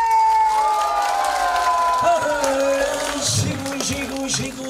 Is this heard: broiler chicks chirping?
no